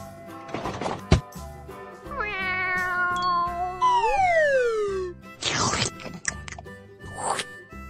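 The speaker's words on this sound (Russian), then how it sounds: "Кошка." A cat meows loudly several times, with long drawn-out, wavering cries rising and falling, close up and alone.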